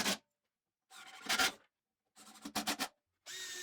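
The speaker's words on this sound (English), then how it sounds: "I'm just pre-drilling some holes and then driving in the screws." A power drill pre-drilling holes and driving screws into timber pieces for a garden bee and bug hotel, heard as short separate bursts of whirring and grinding with silent gaps between them, close up.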